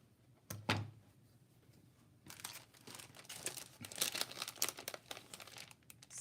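A paper letter is cut and handled for a scrapbook, with a sharp snip followed by close crinkling and rustling of paper in uneven bursts, no talk.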